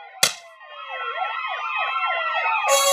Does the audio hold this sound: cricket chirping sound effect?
no